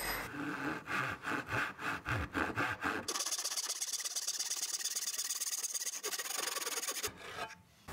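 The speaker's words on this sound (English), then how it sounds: "Nice sharp cut for the bandsaw." A bandsaw cuts an English oak tenon. Rhythmic rasping strokes come first, then a steady, loud, bright hiss of the blade running through the wood for several seconds.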